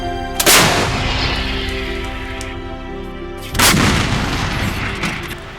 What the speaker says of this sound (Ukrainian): Увага! Армата! Постріл!